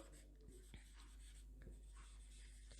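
A pen or chalk writes out a chemical equation for a class-ten science lesson, producing faint close scratching strokes with a few sharper taps over a low steady hum.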